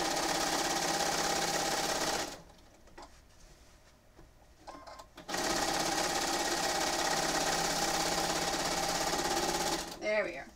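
A sewing machine fitted with a large quilting foot runs in long, loud, steady bursts, stopping briefly for a few seconds of handling noise before stitching again at full speed.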